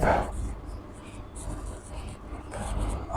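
Writing on a board during a matrices maths lesson makes soft, scratchy strokes in short bursts, fairly close and quiet against a hushed room.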